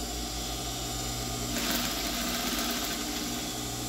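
Sewing machine running steadily while stitching a tricoline cotton fabric napkin, a continuous mechanical hum that grows slightly brighter and louder partway through, close up with no talking.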